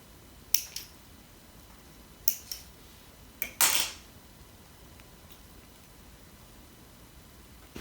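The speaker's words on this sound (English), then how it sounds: "Just snip the rest off." Scissors snip off the excess suede from a steering wheel cover being fitted to a Subaru STi: a few crisp, close cuts in quick pairs, then a longer rasping cut, set against a quiet room.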